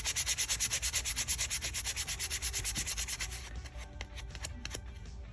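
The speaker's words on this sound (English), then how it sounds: "I'll try to sand and take this words off of here" Rapid rhythmic back-and-forth sanding of a glitter and epoxy resin pen, close and steady for about three seconds, then slowing into scattered lighter rubs and taps.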